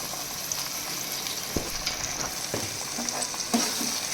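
Ingredients for a country chicken curry fry in a pan as turmeric goes in, giving a loud, steady sizzle with scattered stirring clacks and scrapes throughout.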